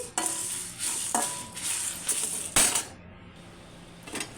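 Dried red chilies and lentils dry-roast in a pan without oil, with rattling, clinking stirs and scrapes in irregular bursts and a faint sizzle between them, close-up and with no voices.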